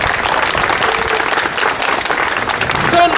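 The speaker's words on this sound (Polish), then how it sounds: "Proszę Państwa, wielkie brawa dla Sztormu 4!" Audience applause at an outdoor maritime ceremony on the Motława waterfront, loud dense steady clapping from a large crowd throughout, with a faint voice over it.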